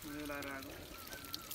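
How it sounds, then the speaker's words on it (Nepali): Spring water piped down from its source above runs in a steady pouring stream, with voices talking over it throughout. "ए, माथि पाइपबाट जोडेर आएको रहेछ।"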